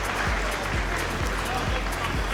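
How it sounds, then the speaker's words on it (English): Spectators at the 2018 World Chocolate Masters final applaud after a chocolate showpiece tilts, a steady wash of clapping at moderate distance, with a rhythmic low thumping underneath and commentary talk over it. "We can still give her a big round of applause."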